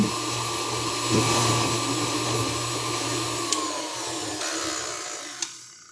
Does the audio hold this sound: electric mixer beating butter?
yes